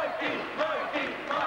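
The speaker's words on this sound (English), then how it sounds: "Mikey getting a chant of his name there from the crowd" A wrestling crowd chants a wrestler's name, a dense, rhythmic roar of many voices in a brief burst.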